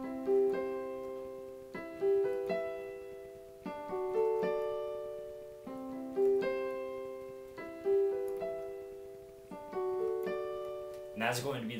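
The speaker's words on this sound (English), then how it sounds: "So this is how it sounds all together." Piano plays the chorus chords of a song, clear struck chords repeating in a steady rhythm about every two seconds, each decaying before the next, alone and moderately soft, with a short noisy burst at the end.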